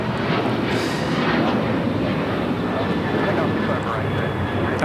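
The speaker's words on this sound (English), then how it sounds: "This is United Airlines 2449 taking off to Las Vegas on the 737-900ER." A United Airlines Boeing 737-900ER taking off at LAX makes a sustained jet roar that swells slightly, with a voice speaking over the engine noise.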